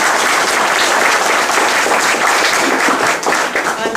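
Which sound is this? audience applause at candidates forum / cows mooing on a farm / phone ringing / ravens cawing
audience applause at candidates forum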